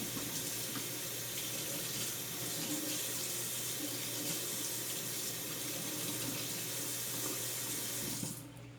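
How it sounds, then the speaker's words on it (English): A brush is rinsed under a running tap, the water gushing in a steady, even stream close by until it shuts off near the end. "I'm going to rinse through."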